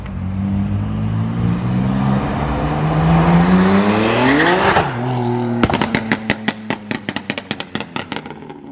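A BMW M2 Competition with a loud exhaust revs and pulls away, its engine note climbing steadily to a peak before shifting down, followed by a rapid run of sharp crackling pops from the exhaust.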